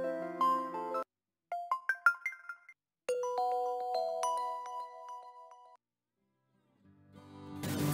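Short electronic computer alarm melodies play one after another, clean chiming tones separated by brief silences, each preview cut off before the next begins.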